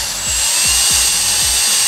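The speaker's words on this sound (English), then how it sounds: "That way your drill bit won't wander." A drill bit bores slowly into old galvanized metal out in an open field, giving a steady, loud grinding hiss broken by a rhythmic low thump roughly every third of a second as the bit catches.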